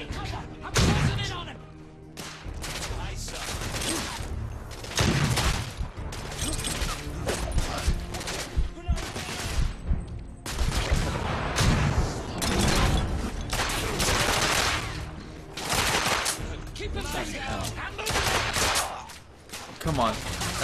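Heavy gunfire in The Order: 1886, including a thermite gun, with dense overlapping shots, thuds and crashes filling a chaotic firefight, and voices speaking over the noise throughout.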